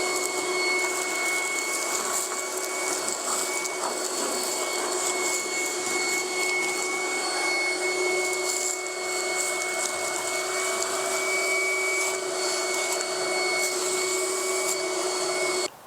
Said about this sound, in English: let me vacuum in here real quick first